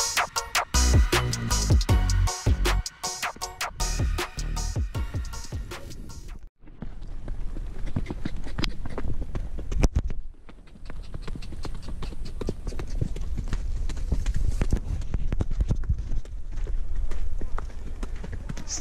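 A donkey carries a rider along a trail in Petra, Jordan, its hooves clip-clopping in a steady rhythm that runs through the whole stretch, joined by rustling, wind and other trail noise, with a voice speaking briefly early on.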